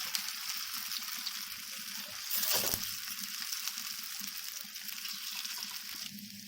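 Kothimbir wadi, Maharashtrian coriander fritters, frying in oil: a dense, continuous sizzle with a brief louder crackling surge partway through.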